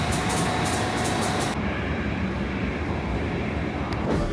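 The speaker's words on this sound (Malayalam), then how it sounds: "അങ്ങനെ നമ്മൾ റെയിൽവേ സ്റ്റേഷനിലെത്തി. ട്രെയിനിൽ കയറി." A train running in Germany rumbles loudly and steadily throughout, with a hissy high-pitched wash in the first second and a half that then drops away into broad, continuous rolling noise.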